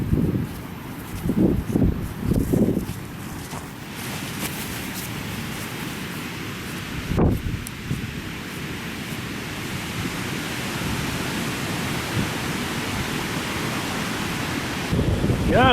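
Strong wind buffets the microphone across the Antietam battlefield cornfield, a steady roaring rush lasting throughout, with heavier gusts near the start and a faint voice briefly at the end.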